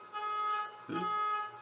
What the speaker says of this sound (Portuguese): é porque o alarme disparou de algum carro aqui